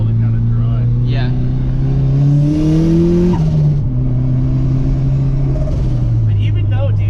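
A car that sat all winter on dry tires revs hard while the tires spin, engine pitch climbing, dropping and climbing again in a loud rumbling pull, with a voice talking over it.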